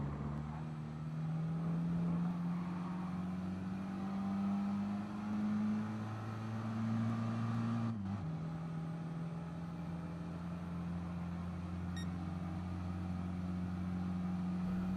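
Race car engine in Gran Turismo Sport lapping the Nürburgring Nordschleife, a steady loud drone that climbs gradually in pitch, briefly drops and resumes as the throttle eases and reapplies, continuous and alone.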